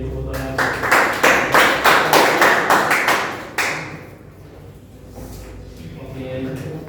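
Students in a classroom clap together in a quick, rhythmic burst of loud, close claps that speeds up and then stops abruptly, leaving a quieter room with faint murmuring.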